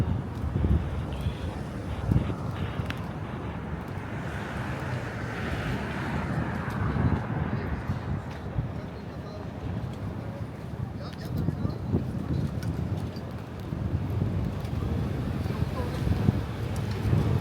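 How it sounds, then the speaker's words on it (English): Cold, strong wind gusting on a Lower Manhattan street corner, a steady loud roar buffeting the microphone with low rumbles throughout. "it is very cold and windy"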